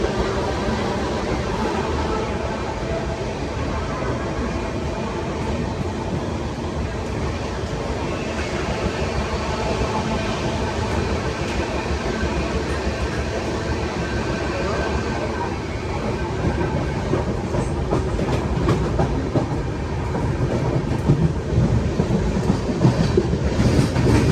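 A Mumbai–Delhi YUVA AC superfast express train runs through Bharuch Junction without stopping, giving a steady, loud rumble of rolling rail noise with faint clickety-clack that swells slightly toward the end.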